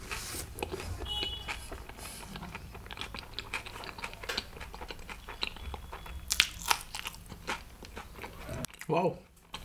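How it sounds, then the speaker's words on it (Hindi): Close, crunchy bites into Indian dishes such as bhindi do pyaza, paneer pasanda and hari mirch paratha with green chutney, with repeated crisp crunches and chewing throughout. "Let's go in for a nice big bite."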